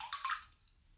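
Instagram's 'drip' notification tone plays once, a short, quiet, bright watery plink with a soft gurgling tail, alone without any voice.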